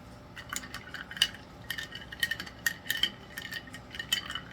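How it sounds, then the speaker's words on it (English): A big spoon stirring an ounce of heavy whipping cream in a container, giving repeated light clinks and scrapes in an uneven rhythm, close and fairly quiet with no talking. "Stir it up real quick with my big spoon."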